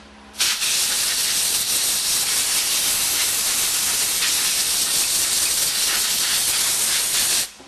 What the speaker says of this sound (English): Gently blow them off with the compressed air.